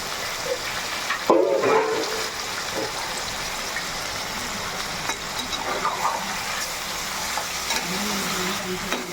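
A kilo of chicken with onions frying in a pan, giving a steady close sizzling hiss with some clatter near the start and faint voices in the background.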